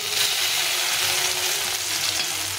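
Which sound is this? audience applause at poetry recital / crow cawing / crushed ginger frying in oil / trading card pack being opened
crushed ginger frying in oil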